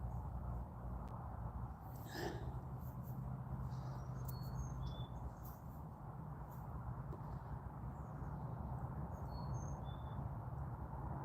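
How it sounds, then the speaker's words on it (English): Small birds chirp faintly in the distance outdoors in Westport, Oklahoma, a few brief high tweets scattered over a steady low background rumble, with no talking. "Just hearing the birds chirping,"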